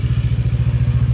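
A motorcycle engine idles with a fast, even low thumping pulse, close and loud, in cold high-altitude mountain surroundings on the Umling La road in Ladakh.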